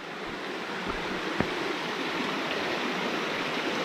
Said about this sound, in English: And a beautiful creek.